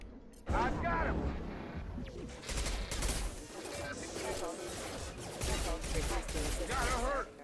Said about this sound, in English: Security systems firing now.